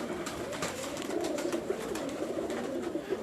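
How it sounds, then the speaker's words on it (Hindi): Pigeons coo in a continuous, soft, rolling murmur close by, the low throaty calls overlapping steadily throughout. "उस्ताद चौधरी सखी मोहम्मद भट्टी साहब के वो कबूतर"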